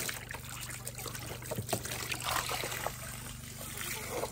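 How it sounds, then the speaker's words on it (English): A small animal water tub is rinsed out in a farmyard, with continuous trickling and splashing water at moderate level throughout. "I'm literally just trying to rinse out their little water tub."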